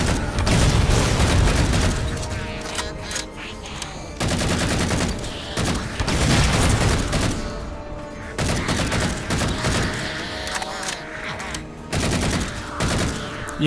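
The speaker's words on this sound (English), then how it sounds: "You can actually be quite accurate with this version of the assault rifle, much like Halo Reach's assault rifle." Dense bursts of assault rifle fire from Halo 4 play loud and close, overlapping with explosive booms and other weapons in a chaotic firefight, with short pauses between volleys.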